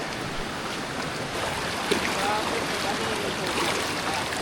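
Steady broadband rush of water from a waterfall near El Nido, Palawan, a continuous wash with no breaks, heard from a moderate distance as a dense even roar.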